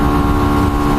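A Hyosung Aquila 125 motorcycle runs at a steady drone while riding, a loud, constant engine hum mixed with wind rush and no pauses or talk.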